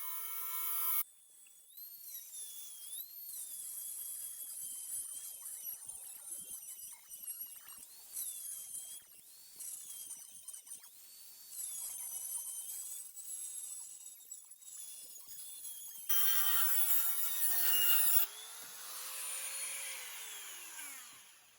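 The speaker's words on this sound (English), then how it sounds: "I'm going to cut through this screw. After that, I'm going to cut through the nail, and then I'm going to cut through that bolt." A cordless rotary tool with a cut-off wheel whines at high speed as it slices through a screw, a nail and a bolt in turn, with steady close grinding broken by brief pauses and shifts in pitch under load.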